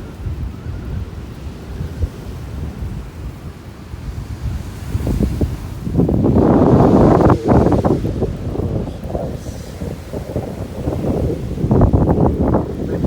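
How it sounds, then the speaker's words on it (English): Wind gusting hard across Kapilina Beach at Iroquois Point, Hawaii, buffeting the microphone with rumbling low roars that swell in the middle, surf washing in behind it, no talk. "And the wind is kicking nicely."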